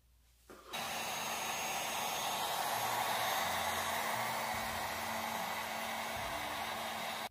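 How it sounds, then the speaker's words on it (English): A heat gun blows hot air over a carved EVA foam samurai sword blade and scabbard, starting abruptly after a brief quiet moment and then holding a steady, loud, close whooshing roar with a low motor hum beneath. "Once you're done, we're going to need the heat gun."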